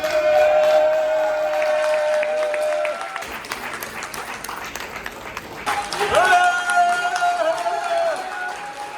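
An audience at an RCM program event in Kanpur applauds loudly as a guest is welcomed to the stage, with dense clapping that thins midway and then swells again while music plays underneath.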